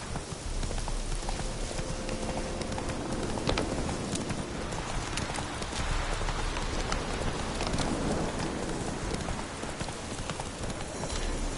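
Roach, the horse in The Witcher 3, gallops through rain with rhythmic hoofbeats pounding under a steady wash of falling rain, continuous and fairly close throughout.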